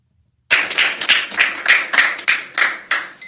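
Clapping from a small group, starting abruptly and continuing in loud, rhythmic bursts of roughly three per second, close by and with no talking.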